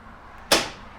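A single sharp mechanical clunk-whoosh of remote central locking actuating on a truck canopy, in an otherwise quiet space.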